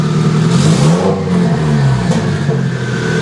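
A Subaru GC8 engine with a hood dump revs up and down close by, pitch rising and falling in loud mechanical surges.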